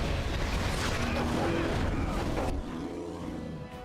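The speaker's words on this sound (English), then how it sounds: "That's a lot of fire, I'm not gonna lie." Lots of fire roaring in the video game Dragon Age: Origins, a dense, continuous rushing roar that drops to a quieter rumble partway through, with a voice speaking over it.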